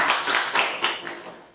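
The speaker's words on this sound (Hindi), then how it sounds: "एक बार जोरदार से तालियां हो जाएंगी।" Audience giving a short burst of applause, a few loud clustered claps that quickly thin out and fade.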